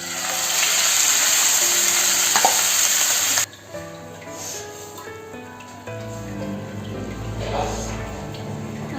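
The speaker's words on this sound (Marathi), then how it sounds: "तेल छान गरम झालं की त्यामध्ये आपण मटन खीमा घालून घेऊ।" Marinated mutton keema hits hot oil in a pan with a loud, steady sizzle that abruptly softens to a gentler bubbling fry, with faint stirring scrapes and occasional quiet voices.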